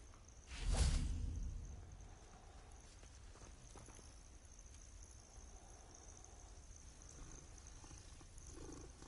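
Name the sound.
cat purring while being petted, video game Hogwarts Legacy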